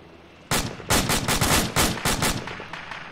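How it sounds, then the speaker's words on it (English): Enemy gunfire in an online shooter video game: a rapid string of sharp, loud automatic-weapon bursts, closely spaced and fairly close, with no talking over them. "Also, that's enemy fire."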